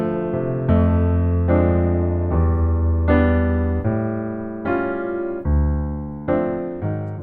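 Jazz piano plays rich extended chords with wide left-hand tenths, struck in a steady sequence of sustained voicings, alone and close without any talk.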